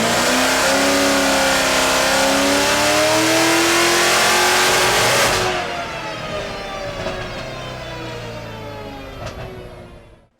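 A modified Corvette C7 Z06 engine revs hard on a dyno, a loud rising mechanical howl that holds for about five seconds, then drops to a lower rumble and cuts out near the end.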